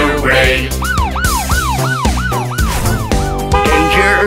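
Cartoon police car siren from a children's car cartoon, a loud, rapid wailing whoop repeated about eight times in quick succession over background music.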